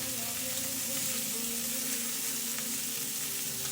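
Lamb loin chops sear on their sides in a hot pan, giving a close, continuous crackling sizzle with a faint hum beneath, no speech.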